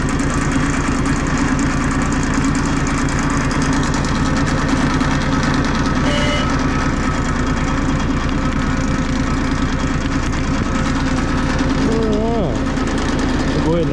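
A Bomag BMP8500 trench roller's diesel engine runs continuously nearby, a loud, steady, dense rumble at a fast idle that stays even throughout, with someone speaking briefly over it.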